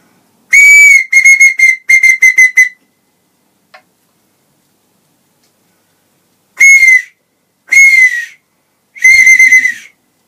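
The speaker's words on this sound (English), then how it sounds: "So, I made up some whistles, and they work really well, actually." A handmade whistle is blown in loud, piercing bursts: a rapid trill of short chirps early on, then after a pause three more separate warbling toots close to the listener.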